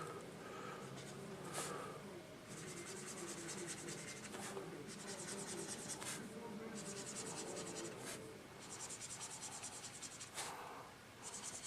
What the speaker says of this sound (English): And I'll write these out.